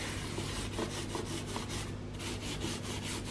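Enamel tile paint being rubbed hard onto plastic wicker, a steady run of close scrubbing strokes with a gritty, rhythmic texture and no talking.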